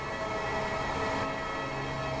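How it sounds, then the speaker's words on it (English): A BR Class 801 electric multiple unit in LNER livery runs in Train Sim World 5 on the East Coast Main Line, giving a steady electric whine and rolling rumble with a faint tonal hum, constant and close. "This train is a BR Class 801 electric multiple unit in LNER livery"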